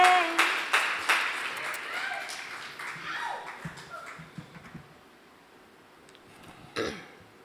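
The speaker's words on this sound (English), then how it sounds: "give her applause" Applause and scattered claps from an audience as a poet takes the stage at a poetry slam, strongest at first and gradually thinning, with a voice, a throat clear and a few thuds close by.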